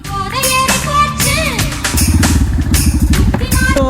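A motorcycle engine runs with a steady rhythmic chug and near, loud putter that becomes more prominent in the second half, while people talk over it.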